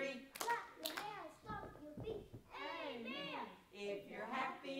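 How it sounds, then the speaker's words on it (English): Children clapping their hands during a song, several sharp claps mixed with childish singing voices, fairly close and lively. "Clap your hands, stomp your feet."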